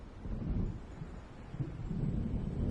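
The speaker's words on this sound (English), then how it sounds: "It seems there's a storm coming." Low, rolling thunder from an approaching storm in the Alan Wake Remastered video game, a deep continuous rumble that swells gradually toward the end, with no voices.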